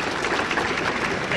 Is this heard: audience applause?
yes